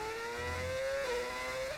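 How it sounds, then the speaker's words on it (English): A Formula 1 race car engine in an F1 video game whines steadily at high revs with a sustained harmonic drone, shifting pitch briefly mid-run, heard continuously with no talking. "engine seems a little bit quieter now."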